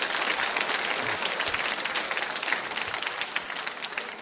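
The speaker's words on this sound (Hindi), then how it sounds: "तालियां जोरों से बजाइए, जोरदार तरीके से।" An audience on a school quiz show applauds a contestant, a dense, sustained burst of many hands clapping that fills the room and stays loud from start to finish.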